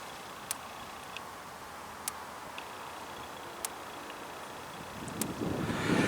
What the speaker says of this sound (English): Do you hear this snapping sound here?